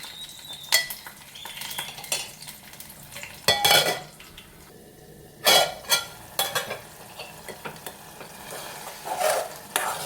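Tomatoes cooking down in a pan for a village-style green chilli and tomato roti pachadi, with a low steady sizzle under clinks and scrapes of a spoon stirring against the pan, several louder stirring bursts.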